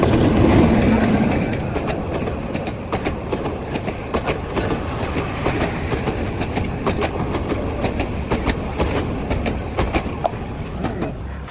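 A train at Lalmonirhat railway station gives a loud, steady rumble that holds for the whole stretch, with rapid rhythmic clacking of wheels over rail joints running through it.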